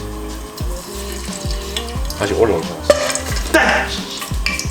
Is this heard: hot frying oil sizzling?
yes